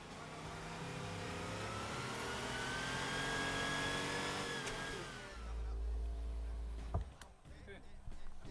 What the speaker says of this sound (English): Porsche 930 that we recorded is the only car really that will be really sounding like the real car in the real world.